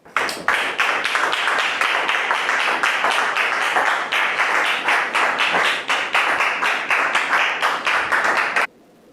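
A studio audience at a French-language talk show bursts into sustained applause, dense rapid clapping that stays loud for about eight seconds before cutting off abruptly.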